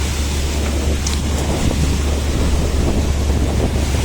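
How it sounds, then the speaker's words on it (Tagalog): Loud, continuous rush of sea waves surging around a boat off Dinahican, heavily buffeted by wind noise against the microphone, with a low steady rumble underneath. "Dito pala ang talagang umaapaw na yung alon."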